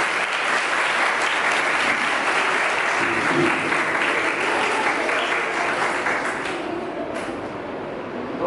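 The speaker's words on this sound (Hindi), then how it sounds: "तो एक बार जोरदार तालियां आप सभी के लिए।" Steady, loud applause from an audience at an International Women's Day celebration with self-defense training, continuing evenly before tapering slightly at the end.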